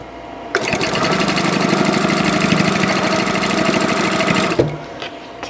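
A sewing machine runs in one continuous, loud, steady burst for about four seconds, stitching pieces of a London Blues quilt block, with its rapid mechanical needle rhythm starting and stopping abruptly.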